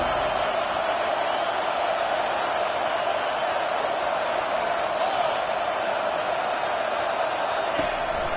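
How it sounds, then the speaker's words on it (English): A stadium crowd at a college football game involving Tennessee roars continuously during a red zone defensive stand, a dense, steady wall of cheering with a few whoops and distant thuds rising over it. "This crowd is trying to inspire this defense to make a big red zone stop"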